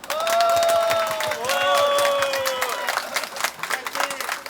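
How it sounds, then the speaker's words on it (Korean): Crowd at a Cho Kuk–Moon Jae-in resignation rally breaks into loud, sustained applause and cheering, with drawn-out tonal calls ringing over the clapping before it thins out toward the end. "우리를 위해서 우리 모두를 위해서 박수 한번 칩시다"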